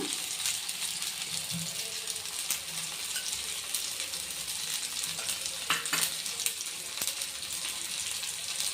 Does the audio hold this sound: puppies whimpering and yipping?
no